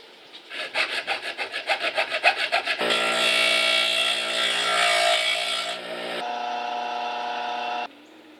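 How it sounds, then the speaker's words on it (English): A hand saw cuts through a piece of mounting stock for a tow truck amber warning light bar, starting with a quick rhythmic series of strokes, then shifting to long continuous grinding passes, close and clear with no talking. "we're basically going to cut 2 of these, drill 4 holes in it,"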